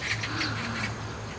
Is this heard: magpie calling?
yes